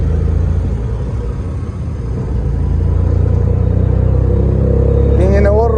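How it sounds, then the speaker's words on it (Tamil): Heavy motor traffic on a busy street in Kalmunai, Sri Lanka during Eid shopping, a loud continuous engine rumble of passing cars and motorcycles, close and steady, with a brief horn near the end. "ஃபுல்லாக மோட்டர் டிராஃபிக் தான் இன்னைக்கு."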